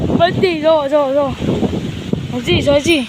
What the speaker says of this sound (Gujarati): પવન બહુ જ આવી રહ્યો છે, અવાજ આવતો હશે